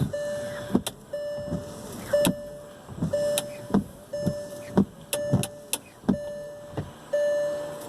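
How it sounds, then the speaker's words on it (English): Windshield wipers on a 2004 Porsche Cayenne run after a repair, with a steady motor hum broken by repeated sharp thumps as the blades sweep and reverse. The sound is close and clear, with no talking. "Moment of truth. Yeah, we have wipers."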